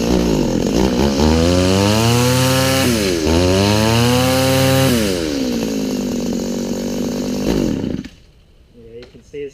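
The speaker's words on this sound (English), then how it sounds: "We'll see if it starts up right now." An Echo SRM-2100 string trimmer engine fires up and runs loud and close, its pitch climbing and falling as the throttle is revved in waves before it cuts out, leaving a faint rattle.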